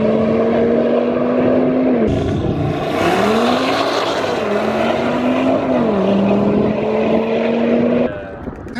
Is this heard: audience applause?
no